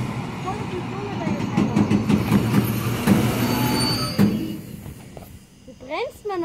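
A train brakes hard at Rosenbach station in Austria. The nearby rumble is loud, with squealing wheels and brakes and rattling cars that fade after about four seconds. A voice speaks briefly near the end.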